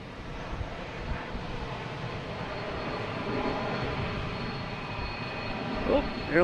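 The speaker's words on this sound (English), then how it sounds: "Now we have Delta and A321 coming in from Atlanta. Landing on 4 left, so it's going to be hot and heavy coming in." A heavy Delta Airbus A321 landing on runway 4 left at Boston Logan Airport, heard as a continuous broad engine roar that swells slightly toward the end, with faint voices near the finish.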